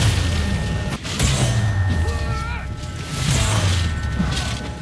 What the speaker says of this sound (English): can we just pause here to thank whoever decided to make parries sound